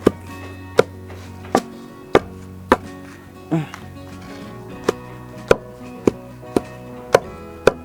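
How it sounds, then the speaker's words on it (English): Leaves for spiritual soap being pounded, giving sharp, loud, evenly spaced thuds about every half second, with a brief scraping pause midway and no talking. "I'm going to pound my leaves."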